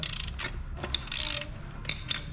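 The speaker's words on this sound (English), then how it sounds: "I'm loosening these bolts, I'm attaching these brackets, and then these things, once you loosen them, actually slide in here" Bolts are loosened and brackets slide along a rail on a Toro TimeCutter 42-inch mower striping kit, giving faint ratcheting clicks, metallic scrapes and a few sharp taps, close and with no talk.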